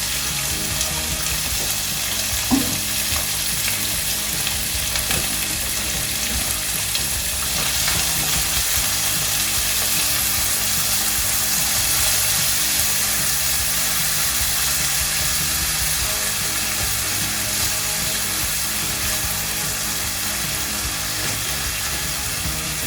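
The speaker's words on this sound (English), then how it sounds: "That sound is how you know your pan's hot enough." Steady frying sizzle of corn in a hot olive-oiled pan carries on for a long stretch, dense and close, with occasional small pops rising above the hiss.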